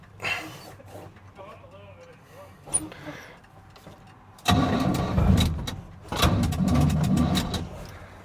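A Pontiac GTO with no working clutch is cranked and started in gear, the engine catching into a loud, rough idle with bursts of revving, preceded by quieter clunks and voices.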